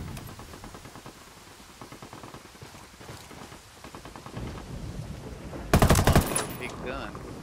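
Automatic weapon fire in Ghost Recon, steady muffled bursts building to a loud, heavy volley near the end, with faint voices in the background.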